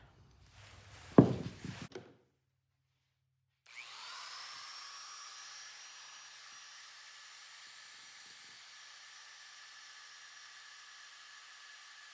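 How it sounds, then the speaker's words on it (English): A small finger sander works a piece of scrap wood, a faint steady high-pitched buzz that starts after a short clatter and silence and continues evenly, fading slightly over time. "now I'm gonna take a sander to it. I have a little finger sander."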